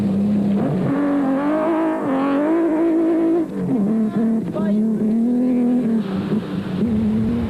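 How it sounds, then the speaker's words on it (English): Nissan Hardbody rally truck on a special stage at the Tara Rally, its engine note rising and falling continuously as it drives by, a loud sustained roar that shifts pitch through gear changes. "Frobler and League hove into view in the Nissan Hardbody."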